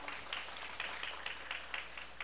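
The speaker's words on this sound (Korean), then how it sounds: "박수 부탁드립니다." Applause from a seated audience of citizens at a televised public debate forum in Siheung, a quiet, distant patter with a few brief louder swells, heard on its own without talk.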